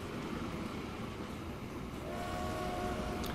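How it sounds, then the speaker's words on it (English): A train rolls past in Transport Fever with a steady rumble, and a sustained horn or whistle tone rises over it in the second half. "Oh, that's a Biggleswade train, that's why."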